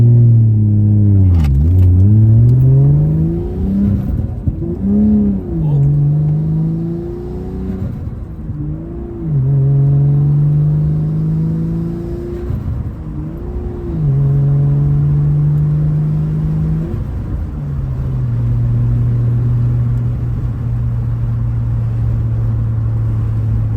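A Nissan Skyline R32 engine on high boost revs repeatedly inside the car, its loud droning note rising and falling through several pulls before settling into a steady higher hum.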